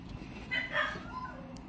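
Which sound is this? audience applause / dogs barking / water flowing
dogs barking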